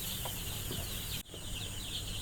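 Ten-day-old broiler chickens raised on a rooftop cluck and chirp in a dense, continuous chorus while drinking water, broken by one sharp click partway through.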